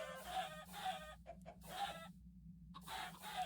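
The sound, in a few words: chickens clucking in Minecraft FTB OceanBlock video game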